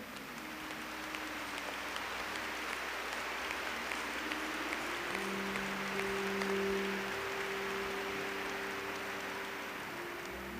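A church congregation claps together during a Catholic prayer service, a steady dense patter of hands sustained throughout, with a low sustained tone held underneath.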